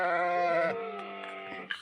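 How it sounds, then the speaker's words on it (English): Sheep on a farm bleat loudly and close by, one long wavering bleat followed by shorter overlapping calls from the flock as they come running up. "my sheep have come running up."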